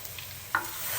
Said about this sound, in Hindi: अच्छे से इसको मिक्स करेंगे और हल्का सा इसको कर लेंगे फ्राई ताकि इसका कच्चापन खत्म हो जाए